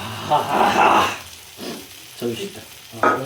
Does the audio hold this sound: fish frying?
yes